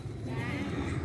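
Goat bleating in a livestock sales pen, a short continuous call close by with a low rumbling background, no speech over it.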